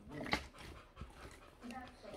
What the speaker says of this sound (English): Sorry if you hear the dog.